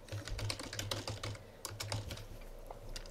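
Logo text is typed on a computer keyboard in a website builder, a rapid close run of clicking keystrokes with a short pause midway and no speech.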